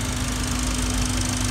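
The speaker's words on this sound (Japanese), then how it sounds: "ではエンジンかけてみます。" A Honda Accord Euro R CL7 engine idling right after starting, a steady, even mechanical hum recorded close up with a constant low drone and no voices.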